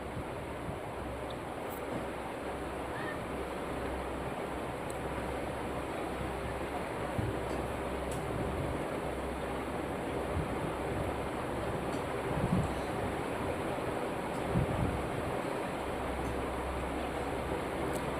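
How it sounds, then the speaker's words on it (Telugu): Ginger garlic paste fries in hot oil with curry leaves for a chicken stew, giving a steady, soft, hissing sizzle throughout with no talking. "అది కొంచెం పచ్చివాసన పోయేంత వరకు వేపుకోవాలి."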